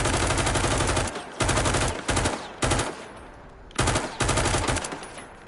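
Rapid automatic gunfire in the virtual-reality shooter Firewall Ultra on PSVR 2 comes in loud, close bursts of varying length separated by brief pauses.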